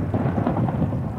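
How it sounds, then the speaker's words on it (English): Thunder rolls through a rainstorm in Minecraft, a continuous deep, loud rumble under steady rain. "even if there is thunder and lightning and there's a storm outside"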